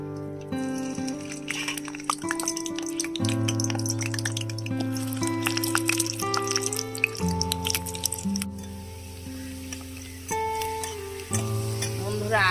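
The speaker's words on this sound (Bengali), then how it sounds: "এবার আমি আলুগুলো তেলে দিয়ে দিচ্ছি" Potato pieces fry in hot oil in a village kitchen, a steady bright sizzle with occasional stirring scrapes, while sustained tonal music plays over it.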